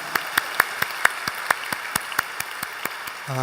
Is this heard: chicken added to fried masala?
no